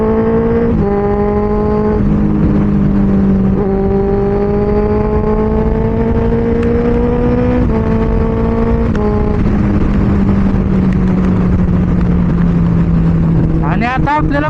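A Benelli 600i motorcycle engine drones loudly and steadily while riding, its pitch shifting through gear changes over continuous wind noise.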